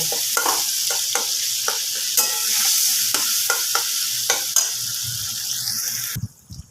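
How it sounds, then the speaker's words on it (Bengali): Spice masala with tomato and Kashmiri red chili powder sizzling in a pan for a catla fish curry, with a loud continuous fry and repeated scraping stirs close by, cutting off abruptly at the end. "এবার মশলাটাকে ভালো করে কষিয়ে নেব মানে এই টমেটোটাকে একটু গড়িয়ে নেব"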